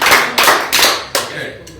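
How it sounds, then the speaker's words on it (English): An open-mic audience in a pub claps together in rehearsal for an Irish pub song, The Wild Rover: four or five loud, sharp group claps in a steady beat, close by, with no singing over them. "All you got to do is clap your hands."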